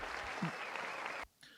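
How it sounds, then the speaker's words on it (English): Short round of applause, dense clapping held briefly then cut off sharply, fairly quiet. "Let me give him a round of applause for that."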